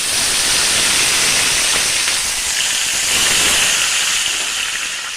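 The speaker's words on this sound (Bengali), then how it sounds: "এবার আমি মাছের মাথাগুলো তেলে দিয়ে ভেজে নেব।" Fish heads fry in hot mustard oil in a kadai on a gas stove, a loud, steady, close hiss and sizzle with no talking.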